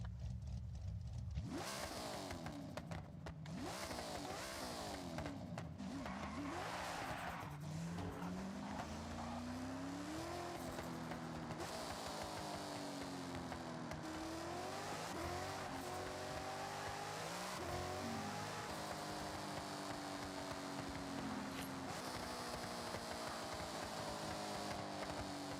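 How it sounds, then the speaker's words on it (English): A Hennessy Venom hypercar in Forza Horizon roars through repeated revving gear changes, rising and falling engine pitch sweeps with tire squeal and skids, loud and continuous for the whole stretch. "the Hennessy Venom. This car sounds crazy."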